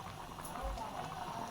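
Live crabs boil hard in salted water, a dense, continuous bubbling churn with a voice murmuring faintly underneath.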